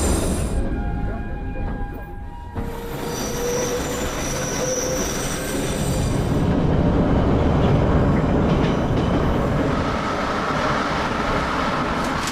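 Subway car rolling along the tracks with a continuous rumble, metallic squeals and rattling, loud and close from inside the train.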